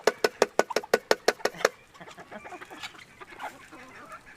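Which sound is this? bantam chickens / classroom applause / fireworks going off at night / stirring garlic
bantam chickens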